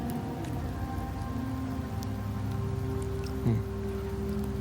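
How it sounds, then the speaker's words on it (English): Rain falls steadily in the video game Wuthering Waves, a continuous soft hiss of drops under layered game music, with a brief low thud partway through. "The rains in Septimont never seem eager to leave this season."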